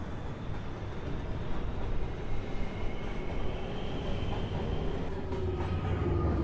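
A downtown local 1 subway train pulls into 2 Av station at night, a steady close rumble of wheels and cars with faint squeal and rattle running throughout.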